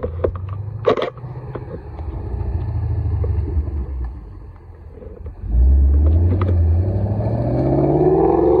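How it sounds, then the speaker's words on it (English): A green Ford Mustang with a rear wing drives past on the way out of Oulton Park, a deep engine rumble that builds and swells loudly near the end. "A green Mustang."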